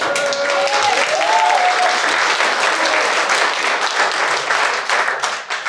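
Sustained audience applause at a worship evening in Zagreb, a dense, loud wash of clapping from a crowd filling the whole stretch, with a faint sung or whistled tone briefly audible early on.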